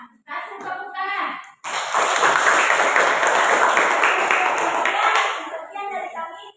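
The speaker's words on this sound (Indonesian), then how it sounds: "Kasih tepuk tangan." Classroom students clap together for a group presentation, a dense burst of hand claps lasting several seconds, with voices speaking just before and after.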